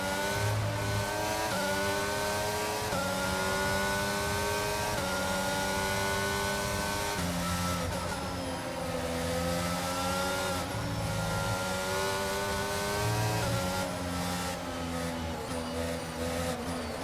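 An F1 race car engine in the F1 22 game screams at full throttle, a loud, continuous high-pitched whine that rises and dips with gear changes and throttle, steady and close throughout.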